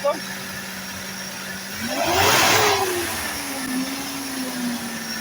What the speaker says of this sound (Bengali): ভাই অ্যাক্সিলেটারে চাপ তো